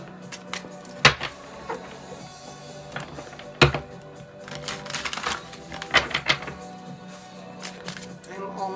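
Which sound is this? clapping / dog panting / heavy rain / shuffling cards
shuffling cards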